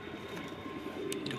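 Pigeon cooing in a coop, soft low murmuring coos over a steady background hum, close and continuous.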